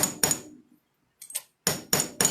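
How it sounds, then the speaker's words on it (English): A chasing hammer strikes a metal bangle clasp resting on a bench block, five or six sharp, ringing taps spaced by short pauses, close and loud with no talking. "use my bench block and chasing hammer"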